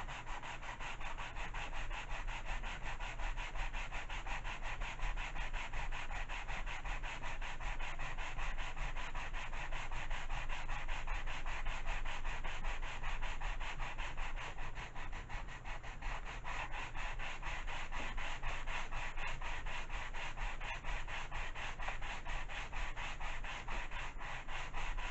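A sanding block works over a balsa-type model glider wing in steady, close back-and-forth rubbing strokes. The scratchy sanding continues for the whole stretch with no voices.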